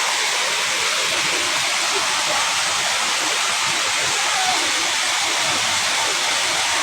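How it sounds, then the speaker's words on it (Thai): A forest waterfall roars in a constant, dense rush of falling water, loud and unbroken throughout, with no voices over it. "น้ำตก"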